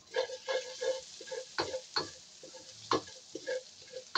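Garlic sautés in a pan for Bicol Express with pork: a soft sizzle with repeated scraping and stirring strokes in an uneven rhythm, close and fairly quiet, with no talking.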